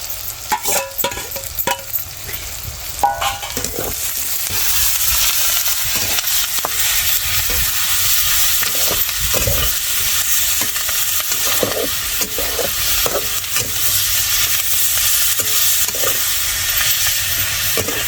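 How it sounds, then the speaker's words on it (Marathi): Onion and ground masala paste sauté in a pan with a loud, continuous sizzle, while a spoon stirs and scrapes against the metal in repeated knocks, most frequent at the start. "कांदा परतलाय मस्त पैकी."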